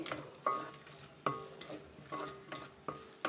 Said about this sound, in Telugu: ఉల్లిపాయలు వేసేస్తున్నానండి ఈ ఉల్లిపాయలు బాగా వేగాలండి